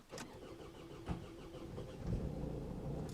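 A 2013 Vauxhall Astra 1.7 diesel, due a glow plug change, cranks for a couple of seconds and then catches, settling into a rough, close idle with no talk.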